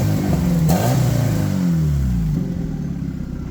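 A Fiat Seicento car's engine revs loud and close, its pitch rising and falling in a steady drone before easing to a lower, quieter idle-like hum.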